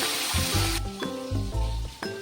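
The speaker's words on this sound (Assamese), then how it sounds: "তাৰপিছত মই ধুনীয়াকৈ মাছখিনি ফ্ৰাই কৰি লওঁ।" Fish frying in hot oil for an Assamese fish curry with taro gives a loud, steady sizzle for about a second, then softer sizzling under low thumps and tonal background sound.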